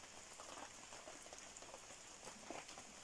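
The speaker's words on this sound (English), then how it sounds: "The rain's getting lighter." Light rain patters steadily on outdoor surfaces in Vermont ahead of flooding, a soft, even hiss broken by scattered drops.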